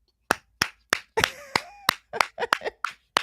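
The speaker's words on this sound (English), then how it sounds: "I'm going to give you a real clap." One person claps hands sharply and close, about a dozen crisp claps in an uneven rhythm with a faint voice-like tone woven between a few of them.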